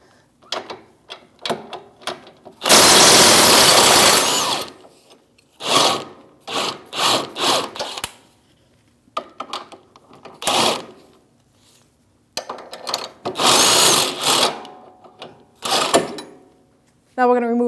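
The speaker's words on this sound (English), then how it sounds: "So we're going to remove our lower shock bolt and nut, 21mm wrench and socket." A 21mm wrench and socket work the lower shock bolt and nut loose on a 2016-2025 Chevrolet Malibu rear suspension, with close ratcheting and grinding bursts of varying length and short pauses between them.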